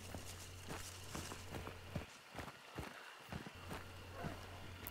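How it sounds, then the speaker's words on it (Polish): Footsteps in the Hunt: Showdown video game land as a steady series of dull thumping steps at a moderate pace, somewhat distant under a constant low hum. "Czyżby kroki?"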